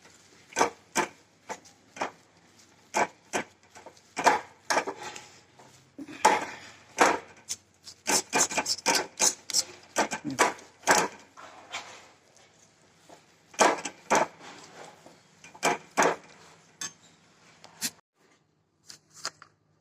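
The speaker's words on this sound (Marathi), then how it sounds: "आता ह्याला थोडंसं भाजून घेते बघा मी" Peas and pigeon pea pods dry roasting in a pan give sharp, scattered clicks and knocks as they are stirred, irregular and close, with quieter gaps in between.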